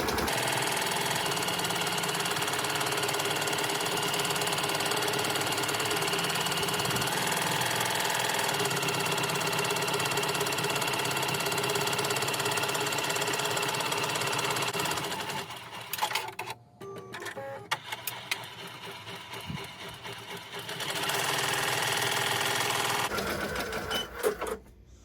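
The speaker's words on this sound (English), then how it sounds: "Now it's doing the satin stitch." An embroidery machine sews a dense satin stitch on vinyl, a loud steady needle rattle running continuously for about fifteen seconds, then breaking into short stops and restarts before resuming near the end.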